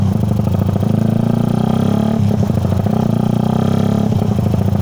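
A loud Yamaha Mio motorcycle engine roars steadily at high revs, close by, with a brief dip in pitch midway before it climbs again.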